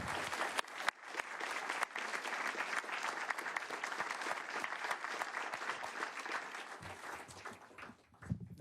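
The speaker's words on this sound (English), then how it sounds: "Let's all give each other a round of applause." A crowd at a memorial tribute event bursts into a sustained round of applause, dense clapping filling the space steadily for several seconds before tapering off near the end.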